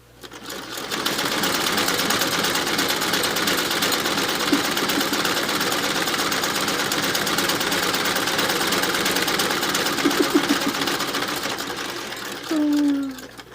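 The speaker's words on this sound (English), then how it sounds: "I'm finding that while I'm hand cranking, every time I crank another piece" A hand-cranked sewing machine stitches quilt pieces with a steady, close, rhythmic mechanical whirring and clatter that runs continuously for most of the stretch before slowing and stopping.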